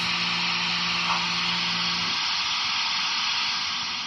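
The cylinder cocks on a Bachmann HO scale Frisco 1630 model locomotive let out a steady, close-up steam hiss. A low hum runs under the first half and then drops away, leaving the broadband hiss alone.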